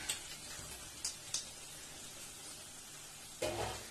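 Pieces of fried chicken dropped into hot roasted masala paste give a faint, steady sizzle, with a few soft ticks early on and a louder hiss rising near the end.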